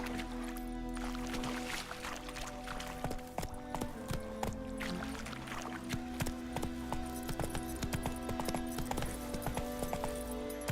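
Horse hooves clip-clop in a steady rhythm as the mount trots through the video game The Witcher 3. The hoofbeats are fairly quiet and sit among soft ambient game sounds.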